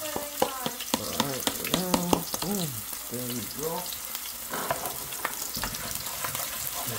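Garlic and pepper sizzle and crackle steadily in a hot pan for a dinner of fried wings and stir-fried vegetables, with a voice talking over the frying throughout.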